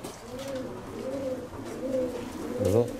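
Pigeons coo nearby in soft, throaty phrases, four rolling calls in an unhurried rhythm over a quiet background.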